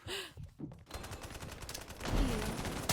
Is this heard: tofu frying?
no